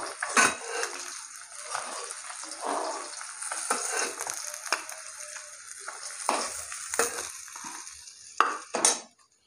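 Fish frying in hot oil in a pan crackles and sizzles in uneven bursts, with the scrape and clatter of a utensil turning the pieces; no talking.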